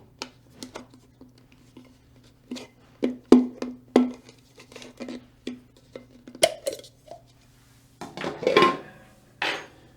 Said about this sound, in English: Sometimes the base of your humidifier pot can be quite tight. You can actually use a knife to help separate the two.